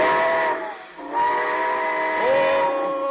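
A radio sound effect of a train whistle blowing in long tonal blasts, then a departing train, loud and close, with the whistle sliding up in pitch near the end.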